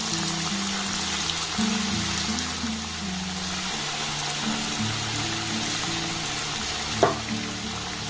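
Gram flour batter drops fry in hot oil with a steady, dense crackling hiss that runs evenly throughout, like light rain, with one brief sharp clink near the end.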